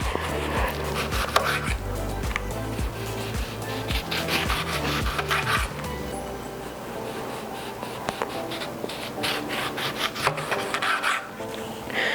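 A cedar plank being cut for grilling salmon, heard as a rhythmic rasping back-and-forth of a blade through wood, close and steady, then easing into lighter scraping strokes near the end.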